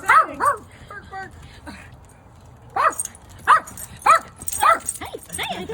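Excited puppies yip and bark in a rapid string of high, close calls while a person greets them over the noise.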